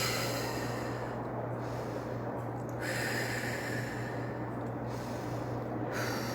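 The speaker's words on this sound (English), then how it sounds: "Breathe in through the nose. Breathe out through the mouth 3 times now." Slow, deliberate breaths drawn in through the nose and let out through the mouth, close and audible over a steady background hum, several long cycles with no talk.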